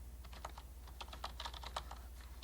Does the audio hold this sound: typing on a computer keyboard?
yes